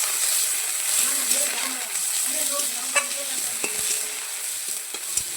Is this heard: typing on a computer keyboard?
no